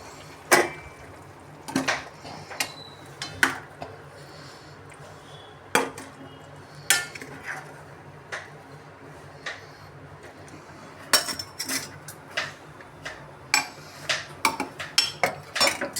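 Metal utensils clink and clatter against steel pots in a home kitchen as cooked vegetables for undhiyu are moved into a pressure cooker, with irregular sharp knocks and scrapes spread through the whole stretch.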